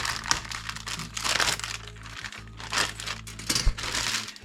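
Thin plastic crinkles and rustles in bursts, close by, with short pauses between handfuls of crackling.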